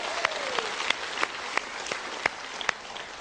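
Sparse, evenly spaced claps ring out over quiet room noise during a seminar talk, about nine distinct hand claps in a loose rhythm, fairly faint and roomy.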